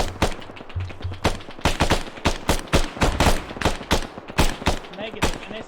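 Gunfire in the video game ArmA rings out as loud, rapid shots and bursts, some tightly clustered like automatic fire, sounding close and continuous across the stretch.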